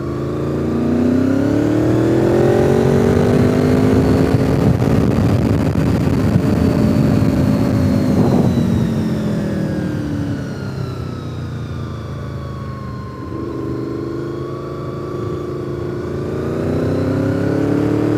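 A Honda motorcycle rides a winding mountain road, its engine close and loud, rising and falling in pitch as it accelerates, eases off and picks up again through the bends.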